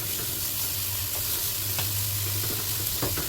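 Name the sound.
fatty meat sizzling in a hot pan without oil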